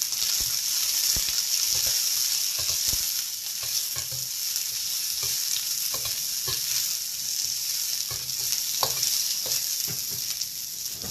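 Garlic sizzles steadily in a hot wok, a loud continuous frying hiss overlaid with scattered scraping and stirring clicks, with no voices.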